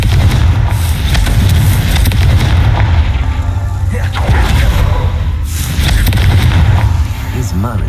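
Confringo fire-spell blasts in Hogwarts Legacy: loud, dense booming explosions rumble continuously across the clip, with layered bursts and crackle over a heavy low-end roar.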